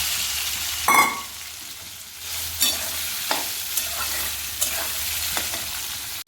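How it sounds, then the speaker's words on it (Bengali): Soya chunks fry in hot oil with a steady close sizzle, broken by several sharp scrapes and clacks as they are stirred in the pan. "সোয়াবিনটা লালচে লালচে করে ভাজা হয়ে গেছে"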